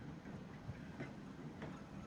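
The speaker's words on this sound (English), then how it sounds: "Oh yeah, steam tram." Steam tram running on rails in the Transport Fever 2 video game, a soft continuous rolling rumble with a few faint clicks of wheels over rail joints, fairly quiet and steady throughout.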